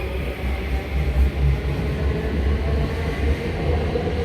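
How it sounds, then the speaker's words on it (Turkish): A Marmaray train arriving at Pendik station rumbles steadily with low, continuous rail noise, nearby and fairly loud, with no voices. "Ah geliyor tren"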